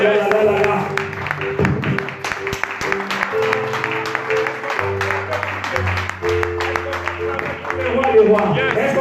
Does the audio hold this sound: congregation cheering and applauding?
yes